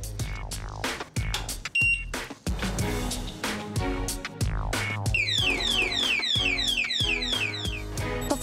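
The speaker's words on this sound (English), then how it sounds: "Use good quality locks such as an alarm padlock." An alarm padlock sounds off, a loud electronic siren with repeated rising and falling sweeping tones and beeping bursts, continuous and harsh across the whole stretch.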